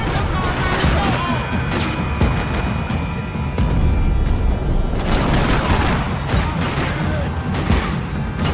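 Gunfire in the video game Max Payne 3: sustained, loud and dense shooting with crashes and impacts fills the whole stretch, swelling in intensity midway, with faint voice-like sounds mixed in.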